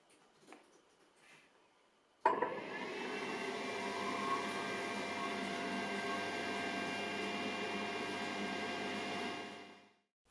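A Creality UW-01 resin washing and curing station starts abruptly after a quiet moment, then runs with a steady whirring, fan-like hum with faint tonal whine before winding down near the end.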